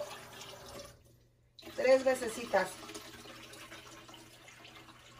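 Running water pours and splashes over rice being rinsed in a kitchen, a short burst of flow after a brief pause, with someone speaking Spanish over it.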